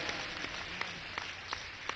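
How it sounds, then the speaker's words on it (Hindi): Audience applause at the opening of Shanti Sewa Dham in Vrindavan, a soft steady patter of clapping from a crowd with a few sharper claps standing out, continuous throughout. "अरे ताली तो इतने जोर से सुनाओ भगवान कृष्ण के।"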